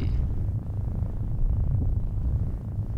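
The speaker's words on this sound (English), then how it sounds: "the spider makes a purring sound like a cat when it's near" Giant spider in Limbo purrs like a cat, a low, steady rumbling purr held throughout, close and continuous with no other sounds.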